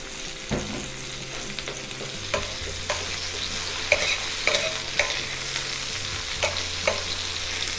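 Meaty mushrooms frying in extra virgin olive oil in a pan, a steady sizzle with stirring scrapes and clicks throughout, close and alone without talk.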